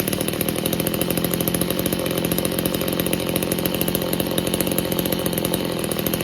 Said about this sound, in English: Alright, we're running at a pretty good idle there.